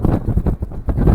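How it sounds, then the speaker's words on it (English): Gusting wind on a mountain trail near a ledge and big rocks, buffeting the microphone in short, loud rumbling bursts. "And the wind. The wind's been up and down,"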